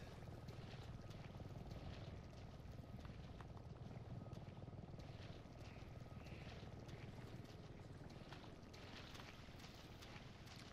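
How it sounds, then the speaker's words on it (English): Helicopter rotor chop in the Resident Evil 7 video game, a steady, continuous thrum with broadband wash sounding fairly distant, heard alone without any talking. "Can't imagine the helicopter's here for me"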